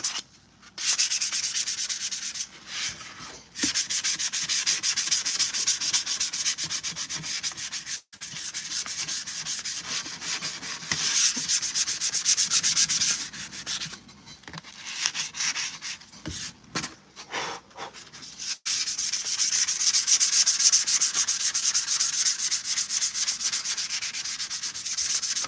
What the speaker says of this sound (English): you always start with a lower grit sandpaper and work your way up